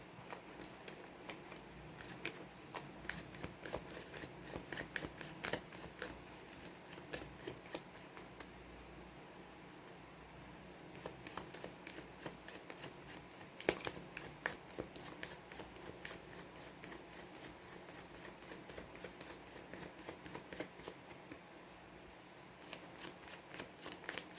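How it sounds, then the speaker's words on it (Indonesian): Tarot cards are shuffled by hand in quick riffling bursts, crisp close clicks and flutters repeating in clusters with short pauses, quiet and alone. "Kita kocok kartu dulu."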